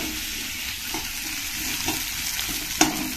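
Onions fry in a pan with a steady, crackling sizzle, broken by a few soft scraping strokes of stirring and a sharper clink near the end.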